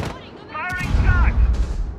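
A gunshot in the video game Rainbow Six Siege, a short sharp blast followed by a rumbling low tail, with some game voice sounds around it.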